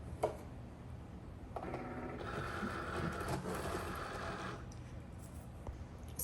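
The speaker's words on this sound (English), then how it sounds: "So I'm going to go ahead and feed it to the machine." A Cricut cutting machine draws a heat transfer vinyl mat in with a steady mechanical whirring and rattling hum, rising in the middle and fading at the end, with a quiet click near the start.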